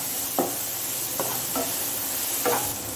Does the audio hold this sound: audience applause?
no